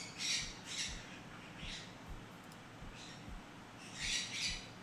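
Pirate birds in the space game Hellion give several harsh squawks in separate bursts, moderately loud over a low steady background hum, with no speech.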